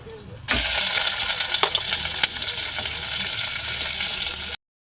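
A loud, steady sizzle of fish hitting hot oil, after browned garlic, bursts in abruptly and crackles continuously up close before cutting off.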